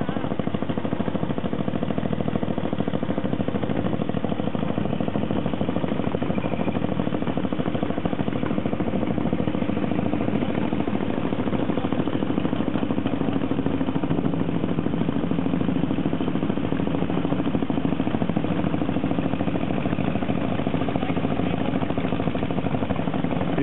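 A vintage Württembergia motorcycle engine runs steadily throughout, a continuous low mechanical rumble with a rough, throbbing idle character, close and fairly loud.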